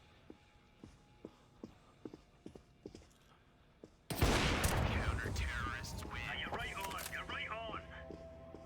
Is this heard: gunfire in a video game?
yes